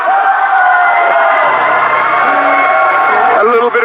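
Crowd at an amateur MMA event cheering and applauding loudly and continuously, with whoops and shouts blending into a dense roar that stays steady throughout.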